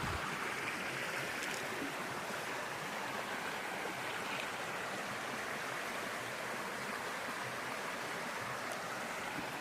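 Hillside stream splitting and running down toward a river, a steady broadband rush of flowing water close by, continuous and even throughout with no voices.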